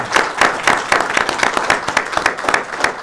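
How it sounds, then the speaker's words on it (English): Loud, close applause from the audience at a football club press event announcing a new head coach, with individual claps distinct in an uneven, lively rhythm for about three seconds. "Round of applause, ladies and gentlemen"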